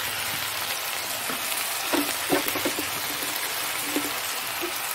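Tomato sizzles and hisses in a hot frying pan, a steady close frying roar with a few soft clunks and stirring taps scattered through it; no talking.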